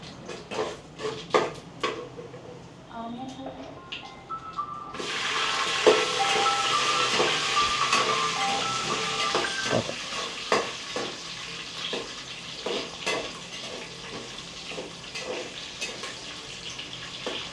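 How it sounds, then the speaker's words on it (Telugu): Spices and green chillies dropped into hot ghee for a chicken fry, starting with a few light clinks before a sudden loud sizzling hiss that settles into steady frying, punctuated by spoon scrapes and taps on the pan. "నెయ్యి వేడైపోయింది కదా మసాలాలు వేసేస్తున్నాం"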